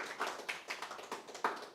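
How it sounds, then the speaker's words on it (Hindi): An audience at a Hindi poetry recitation claps in a brief run of distinct, fairly quick claps, faint and thin, without speech over it. "Can we have a huge round of applause"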